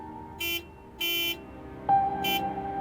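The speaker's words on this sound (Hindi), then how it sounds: "मिर्जू हॉर्न बजाती रहेगी जब तक मैं बाहर नहीं जाऊंगा।" Three short, buzzy car horn honks sound in quick succession, then a steady tone lingers quietly.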